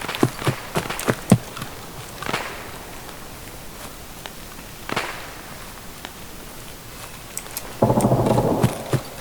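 M4 rifle gunfire in a video game: scattered sharp cracks and quick bursts, far off and moderately loud, with a rougher burst of noise near the end and no talking.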